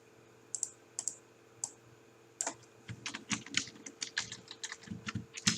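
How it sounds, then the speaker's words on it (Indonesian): Close clicking of computer keyboard keys: a few separate taps at first, then a quicker irregular run of typing with bursts and short pauses, alone in a quiet room with a faint steady hum. "Kita ketik keterangannya."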